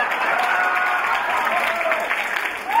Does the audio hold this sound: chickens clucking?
no